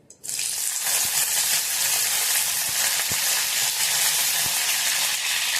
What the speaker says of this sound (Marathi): कढीपत्त्याची फोडणी देऊया